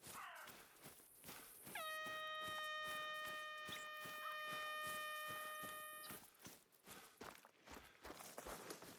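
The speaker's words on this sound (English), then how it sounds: "Can you hear that? It's like a horn or something." An air horn app blares in Hunter: Call of the Wild, one long steady harmonic blast lasting about four seconds over crunching footsteps on the ground.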